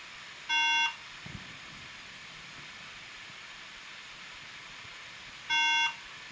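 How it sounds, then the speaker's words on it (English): A salvaged Apple computer pulled from a dumpster beeps on power-up, two short identical electronic tones several seconds apart over a steady faint hum, with a brief clunk between them. "Ah, beeps."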